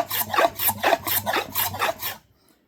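A hand file rasps a 45-degree chamfer along the edge of a wooden desktop organizer in about seven close, rhythmic strokes. Then it stops and quiet follows.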